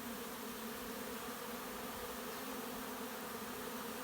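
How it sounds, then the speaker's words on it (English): Dense, constant buzzing hum of a honeybee swarm massing at a hive before departing, many bees droning together, steady and close, with no voices. "That is either a swarm just starting to get ready to head out"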